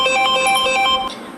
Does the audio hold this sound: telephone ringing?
yes